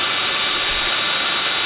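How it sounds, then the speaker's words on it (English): Heat gun blowing hot air to melt embossing powder on a stamped card, a loud, steady whooshing hiss held without a break, no voices. "So you're going to get out your heat gun"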